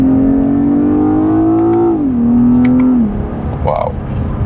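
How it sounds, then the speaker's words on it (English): A BMW 840i Gran Coupé's inline six-cylinder engine revs up loudly in a rising, steady tone, eases off, then climbs again, heard from close by on a wet country road. "we are definitely disturbing their silence with this inline 6-cylinder"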